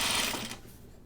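A sewing machine stitches tunic fabric around a curve, giving a brief, close, continuous whirring hum that fades slightly toward the end, with no talking.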